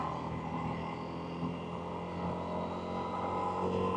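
Motorcycle engine drone and tyre roll while riding, a steady close hum with tonal engine harmonics and road noise throughout, no voices.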